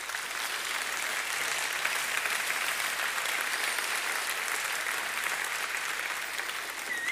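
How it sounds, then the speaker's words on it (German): Audience at a conference lecture on genetic engineering breaks into sustained applause, a dense even wash of many hands clapping throughout with no pause. "Applaus"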